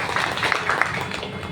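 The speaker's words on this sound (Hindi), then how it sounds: "पहले तो सैफ सर के लिए एक बार जोरदार ताली बजनी चाहिए" Audience applause for Saif sir at a live talk event: a short, dense burst of clapping from a crowd, steady and fairly loud, with no speech over it.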